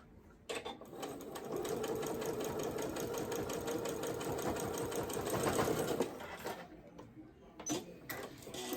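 A sewing machine stitches pajama pants, a steady rapid mechanical chatter running for about five seconds before stopping, followed by a few faint handling clicks.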